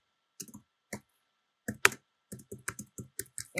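Keys on a computer keyboard are pressed in short irregular bursts, close and crisp, with brief pauses between groups of clicks and no speech.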